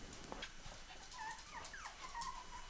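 Young puppies whimper and yip softly in a series of thin, high, wavering cries, fairly quiet against steady background hiss, during a puppy health check before handover to new owners.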